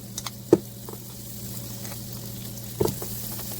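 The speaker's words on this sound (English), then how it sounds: "we're just going to add in the butter. And just turn this to medium so I don't burn the butter." Butter melts in a pan over medium heat for a mac and cheese, giving a faint, steady sizzle with two brief utensil clicks near the start and end.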